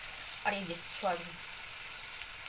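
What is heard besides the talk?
onion, garlic, tomato, cumin and bay leaf frying in oil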